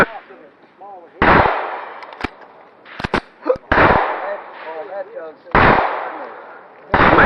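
Five loud, sharp 12 gauge shotgun blasts from a Remington V3 at a steel shooting match stage, irregularly spaced, with people talking between shots.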